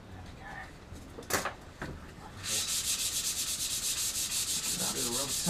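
Sandpaper rubs rhythmically along a foam sword blade, a steady run of close, brisk strokes following a few scattered scrapes and knocks.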